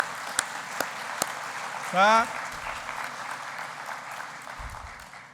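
Audience at a university quantum technology research event giving another round of applause, a diffuse clapping wash beneath a few sharp hand claps and a brief spoken word near the start.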